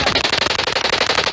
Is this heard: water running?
no